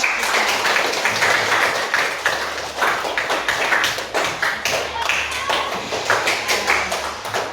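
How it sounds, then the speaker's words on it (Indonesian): A school crowd claps steadily for the principal for several seconds, a dense patter of many hands at moderate distance, with faint voices underneath. "Tepuk tangan untuk kepala sekolah."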